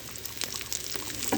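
Grass carp pieces frying in a pan, a close, continuous sizzle of hot oil with a few small pops and crackles.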